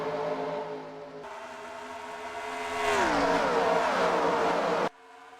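Race cars in a racing game roar down the front stretch at Kentucky Speedway, engine pitch climbing then falling as a car passes close, loud and continuous before cutting off abruptly.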